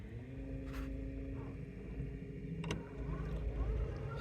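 An 80-pound-thrust, 24-volt electric trolling motor runs on a fishing boat with a low, steady hum and whine under faint water and wind noise, plus a couple of brief clicks.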